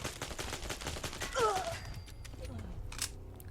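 Browning Hi-Power 9mm pistol fired in Fallout 4, a quick volley of sharp game shots at close range with a ringing tail, faint talk mixed underneath.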